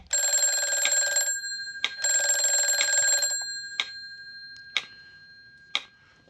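A telephone rings in a 1953 radio drama recreation: two long, loud electronic bell bursts, each about a second, followed by several sharp isolated clicks and knocks in an otherwise quiet room.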